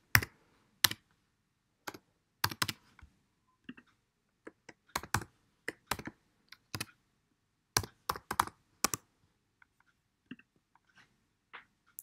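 Keys clack on a computer keyboard while a username and password are typed, in sparse, close clicks and short quick bursts separated by silent pauses.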